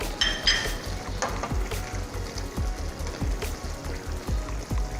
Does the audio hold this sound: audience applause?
no